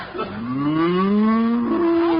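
A cow in a radio comedy lets out one long, loud, close moo that slides gently upward in pitch and holds steady, heard alone without talk.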